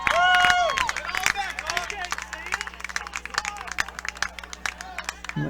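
Scattered applause from a crowd at a high school baseball game, Cedar Park vs. Leander, light irregular clapping and cheers spread through the clip beneath an announcer's talk and crowd chatter.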